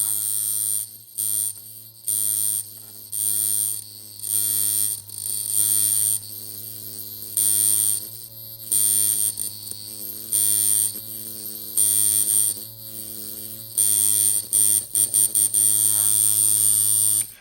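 A Sunskin Primus hybrid tattoo machine runs with no needle fitted, giving a steady close buzz with sharp high whine that pulses in short on-off bursts throughout, with no talking.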